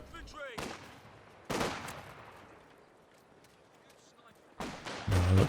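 Gunfire in a Company of Heroes 2 1v1 match, with a sharp sniper shot among bursts of battle fire and explosions that swell and fade, loudest near the start and again at the end.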